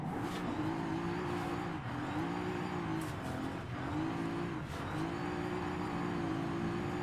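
A car engine revving in Forza Horizon, with a close, loud engine note rising and falling in repeated cycles as the throttle is worked through gear changes.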